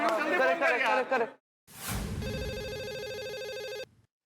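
A telephone rings with a steady electronic ringtone for a call to a school, sounding alone and fairly loud for about two seconds after a short stretch of talk.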